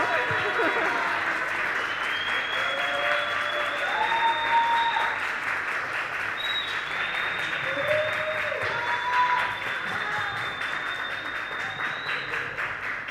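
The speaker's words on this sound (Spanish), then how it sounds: "Yo creo que este gran aplauso es poco todavía" Sustained audience applause at a conference after a freelance design talk, a steady dense wash of clapping for over ten seconds with faint whistles and cheers threaded through it.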